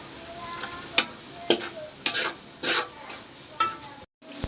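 Onions and shrimp frying together in a pan, with a low sizzle broken by several sharp scraping stirs at an uneven rhythm, close and moderately loud, with a brief silent gap near the end.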